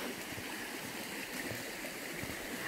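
A stream flows beside a raised mill race at a watermill in Trhové Sviny, giving a continuous close rushing burble that stays steady throughout, with no speech.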